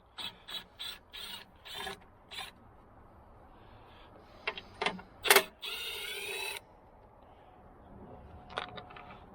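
Ratchet wrench backing out 10 mm bolts from the recoil starter housing of a snowblower, heard as several short bursts of clicking separated by pauses, fairly faint and close, with no talk.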